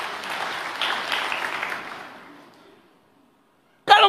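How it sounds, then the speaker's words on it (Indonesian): A church congregation claps together in a dense round of applause that swells, then thins and fades into silence, followed by a brief sharp burst at the very end. "Berikan tepuk tangan yang meriah."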